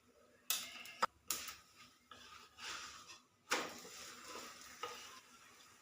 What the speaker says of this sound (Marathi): हे बघा दुसरा देखील भाजून घेऊया थोडंसं तूप सोडूया